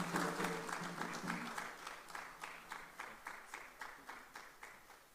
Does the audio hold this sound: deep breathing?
no